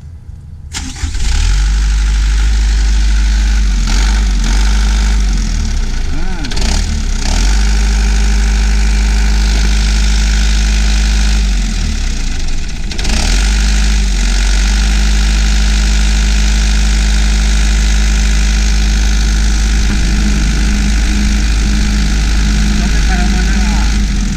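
An engine, apparently a farm or utility motor in rural Toraja, Indonesia, is started and then runs at a steady, loud idle throughout, with people talking nearby over the continuous low rumble.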